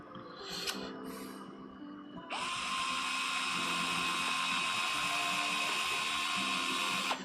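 A small electric screwdriver drives screws into an RC truck kit, whirring briefly, then running in a long steady high-pitched whine at close range, stopping abruptly at the end.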